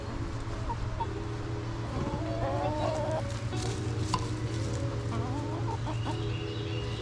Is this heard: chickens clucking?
yes